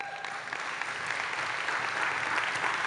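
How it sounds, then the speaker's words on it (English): Audience applause at an annual church conference plenary session, a dense, steady wash of many hands clapping throughout, sustained and fairly loud with no break. "if we can just hold our applause till the end"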